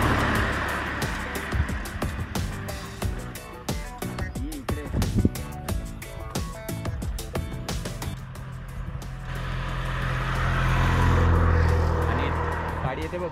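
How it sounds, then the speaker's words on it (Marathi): A car approaches along a road, its engine and tyre noise swelling toward the end amid a busy mix of traffic sounds and music-like tones. "गाडी येते बघ व्हाईट कलरची."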